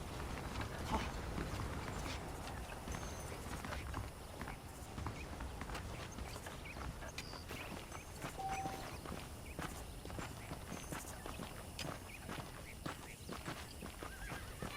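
Horse hooves clip-clop in a steady walking rhythm, fairly faint, with occasional animal calls in the background, in the video game Red Dead Redemption.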